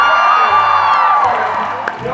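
A live theatre audience at a Dan and Phil comedy show in Amsterdam whoops and cheers loudly in one sustained roar that gradually fades.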